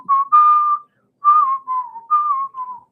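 A person whistles a tune in three clear melodic phrases with short pauses between them, close and fairly loud, with no talking.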